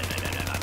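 Rapid electric blast fire from a character in Plants vs Zombies Garden Warfare, a steady buzzing stream of pulsing shots over a low hum for under a second, loud and close.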